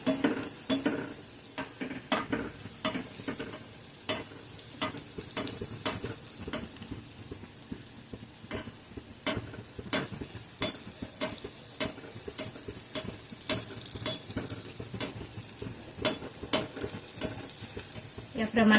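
Potato lollipops deep frying in hot oil, a steady loud sizzle and bubble with scattered sharp crackles and pops throughout, no voices.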